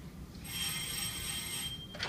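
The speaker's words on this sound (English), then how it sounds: "This is a phone." A telephone rings during a school theatre stage production, one sustained electronic ring over steady room noise, fairly faint and heard without any talking.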